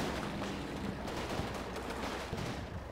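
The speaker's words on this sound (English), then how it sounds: "I pound them with fire from a Panzerschreck team and a mortar" Panzerschreck and mortar fire in the video game Combat Mission Normandy, rendered as a dense, continuous stretch of distant gunfire and booming blasts at a low, steady level.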